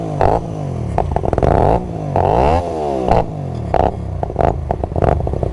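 A Hyosung Aquila 250 motorcycle with twin exhausts merging into one pipe, revved hard in quick bursts, the engine note sweeping up and down loudly and close, with crackling pops between throttle blips.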